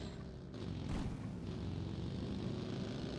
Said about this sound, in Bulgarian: Чувам самолет.